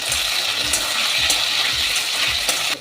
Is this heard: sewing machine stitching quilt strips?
no